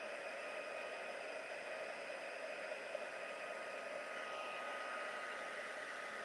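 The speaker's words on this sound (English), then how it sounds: "I am heat setting the embossing powder" A heat tool blows steadily over embossing powder on a stamped paper craft project, a constant whooshing hiss of moderate level with no pauses and no talking.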